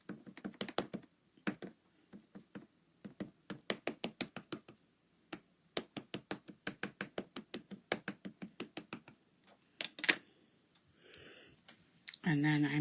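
A rubber stamp is pressed repeatedly onto paper, making a steady series of soft, close taps and knocks in quick runs with brief pauses, followed by a few handling rustles near the end.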